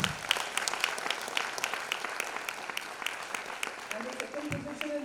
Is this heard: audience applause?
yes